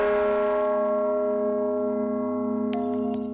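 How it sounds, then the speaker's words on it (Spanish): A large bell of the Cathedral of Santiago rings out with a long, rich humming decay, a second strike sounding near the end; no talking. "las campanas suenan solo para ocasiones especiales"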